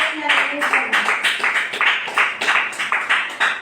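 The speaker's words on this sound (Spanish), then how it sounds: "denle un aplauso al Señor Jesús" A church congregation claps in a steady, rhythmic beat during a Sunday service, hands striking together at regular intervals, close and lively with voices mixed underneath.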